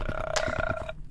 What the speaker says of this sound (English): Is this guy burping or something?